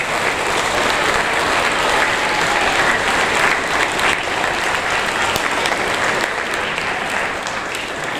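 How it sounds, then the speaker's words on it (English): A crowd of parents and guests at a seventh grade awards ceremony applauds parents and teachers, a steady, dense wash of clapping that holds loud and even for the whole stretch before easing slightly at the end. "So let's give parents and teachers a round of applause"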